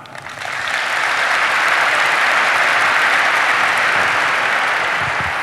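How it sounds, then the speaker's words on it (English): A large keynote crowd at the INBOUND 2014 conference applauds on cue, a dense, sustained roar of many clapping hands that rises quickly within the first second and holds steady to the end. "if you're not a Salesforce.com user, can you clap for me?"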